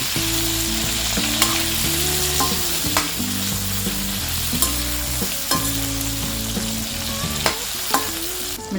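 Lemon pieces fry in hot oil with mustard seeds and asafoetida for a quick lime pickle, making a loud steady sizzle with clattering spoon strokes against the pan and a low hum underneath.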